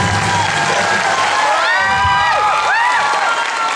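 A concert-hall audience at a Taiwanese song show screams, cheers and applauds loudly after a duet by a Golden Melody Award winner; shrill whoops rise over a steady wash of clapping throughout.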